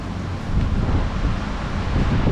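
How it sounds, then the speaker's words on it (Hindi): Strong storm wind roars and buffets the microphone in a continuous, loud, broadband rush with no letup and no talking. "बहुत तेज हवाएं चल रही है"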